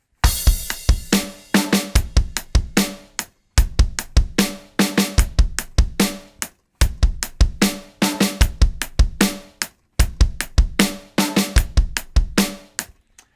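A full drum kit groove repeats in short bursts separated by brief pauses, with punchy kick and snare under a bright, splashing crash cymbal.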